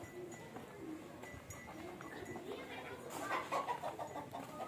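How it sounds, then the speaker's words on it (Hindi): Hens cluck and chatter on a small home poultry farm of about sixty birds, a soft continuous flock murmur with brief louder calls near the end. "ये सामने मुर्गियां हैं लेकिन अब इनके पास 60 रह गई हैं"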